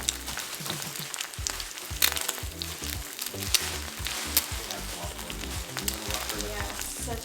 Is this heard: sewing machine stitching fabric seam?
no